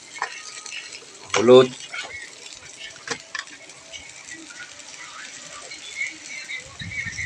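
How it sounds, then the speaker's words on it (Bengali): Onions fry in a pan as a spoon stirs them, a soft sizzle with scraping and clinks of the utensil against the pan, and a brief spoken word partway through. "পেঁয়াজটা ভালো করে আমরা ভেজে নেব। পেঁয়াজটা ভাজতেছি।"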